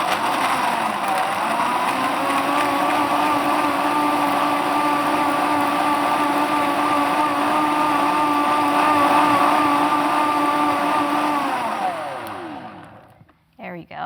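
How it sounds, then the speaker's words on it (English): A blender purées mole sauce with toasted almonds and sesame seeds, a loud, steady motor whir holding its pitch for about twelve seconds before it winds down and stops. "So big noise, I'm just going to blend this up."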